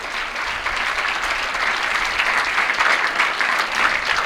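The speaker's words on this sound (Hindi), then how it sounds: "इनके सम्मान में ताली बजाओ।" A seated audience at a Jain religious discourse gives a long round of loud, even applause, many hands clapping together without pause from start to finish.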